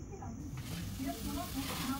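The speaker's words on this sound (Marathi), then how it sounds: "गॅस बारीक फ्लेमवर असल्यावर कांदा लाल होईपर्यंत छान भाजून घ्यायचा आहे." Chopped onion frying in a pan on a gas stove over a low flame for pav bhaji, a soft, steady sizzle under a voice talking throughout.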